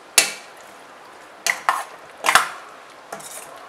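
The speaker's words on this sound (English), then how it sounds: "So I'm going to mix everything together." A spoon scrapes and knocks against a pan as aloo gobi, potato and cauliflower with salt and a little sugar, is mixed together, giving a few sharp clinks and scrapes spaced apart over a quiet background.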